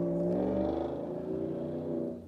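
A car backing out and pulling away nearby, its engine a steady low hum that fades slightly as it moves off, brief and fairly quiet.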